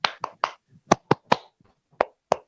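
A rhythmic "tepuk semangat" clapping cheer by schoolchildren during an online class, with a series of sharp, close claps in a patterned beat of quick groups and short gaps.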